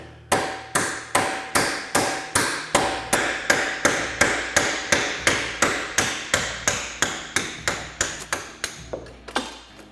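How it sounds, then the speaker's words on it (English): Steady metallic hammer blows on a punch, knocking a roll pin out of a Polaris General front prop shaft through a small jig, about two evenly spaced ringing strikes per second, close and loud. "There we go, we knocked our roll pin out."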